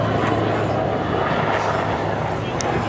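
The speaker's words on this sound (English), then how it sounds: "Please welcome the 2013 the Army Air Corps Mark 7 Lynx helicopter display." Army Air Corps Mark 7 Lynx helicopter performing a display at Bournemouth Air Festival, a continuous loud rotor and engine roar with a low steady hum throughout.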